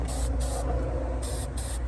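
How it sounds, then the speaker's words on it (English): A steady hiss of aerosol spray onto the battery terminals of a 16-foot Carolina Skiff boat runs continuously for a couple of seconds, close and fairly loud, with a few brief breaks. "We are going to spray that."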